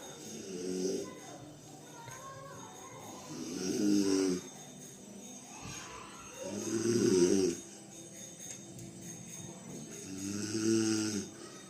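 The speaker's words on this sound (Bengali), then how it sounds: "আমার মা এত ঘুমাচ্ছে নাক ডেকে" A sleeping mother snores in slow, regular cycles, four drawn-out rasping snores a few seconds apart, fairly quiet and close, with faint background hum between breaths.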